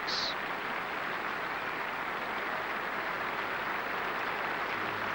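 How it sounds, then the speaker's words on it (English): A cricket crowd at Edgbaston giving Graham Gooch a standing ovation after his 154 against New Zealand, a steady wash of distant, sustained applause from a large stadium audience. "The crowd standing ovation for Graham Gooch."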